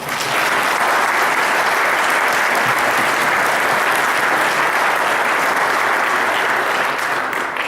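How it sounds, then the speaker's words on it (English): An audience at an evening question-and-answer event applauds the speakers, a dense, steady wash of clapping from many hands that holds at full strength throughout. "I think you should be applauded for that"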